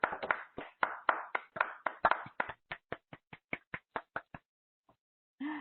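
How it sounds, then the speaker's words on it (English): Separate sharp claps come from an audience on an online manifestation call. They are loud at first, then thin into sparse taps that stop, and a brief sound follows at the end. "Everybody, huge round of applause for Gabrielle"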